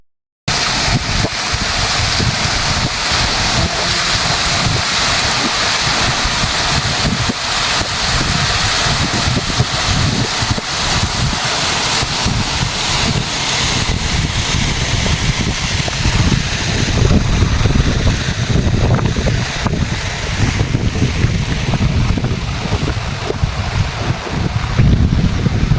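Water flowing at Madurankeni tank, a steady broadband rush carried on through the whole stretch, with heavy low rumble from wind buffeting the microphone and no voices.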